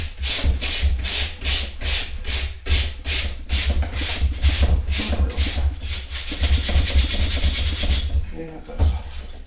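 A wire brush scrubs hard at old, long-ungreased bearings, a steady rhythmic rasping in repeated strokes, loud and close, with a brief pause near the end.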